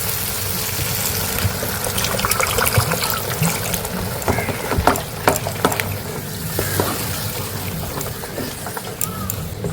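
Water poured into hot, oil-releasing fried masala in a pan while cooking katla fish kalia, a Bengali fish curry, giving a loud, steady sizzling trickle with crackles throughout.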